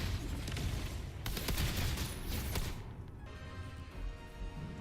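Video game gunfire in Wuthering Waves: dense, loud bursts of shots over the first three seconds that then fall away into quieter ambient game sound with lingering tones.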